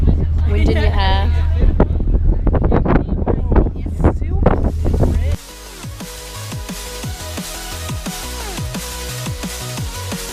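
Wind buffets the microphone hard while riding a boat toward Ilha Grande, with people talking over the roar, then the gusts drop away to a quieter hum with scattered voices.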